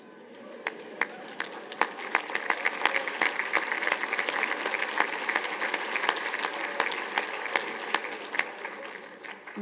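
A commencement audience applauds graduates in sustained, dense clapping that fills the whole stretch, loud and close, with occasional sharper individual claps standing out.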